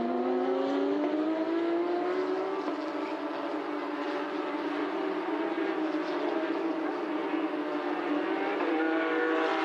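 Porsche Carrera Cup Asia race cars battling on track, engines screaming at high revs in a continuous, rising and falling whine heard from trackside, steady and loud throughout.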